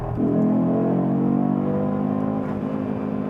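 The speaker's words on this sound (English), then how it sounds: "the keen among you will have heard I was rolling anti-lag before that fired off" An Audi 8Y RS3 in racing mode loudly pops and crackles as the anti-lag fires off over a sustained, rumbling engine note, close and continuous throughout.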